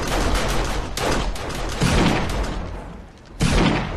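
Defensive turrets in 7 Days to Die unleash loud, dense automatic gunfire in continuous fusillades, with a short lull before another heavy burst erupts.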